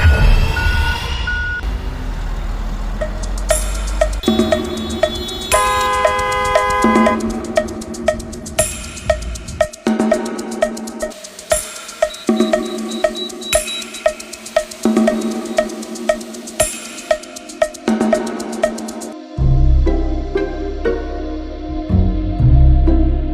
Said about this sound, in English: we still got the big trucks out, getting those big piles out of the way to get back to normal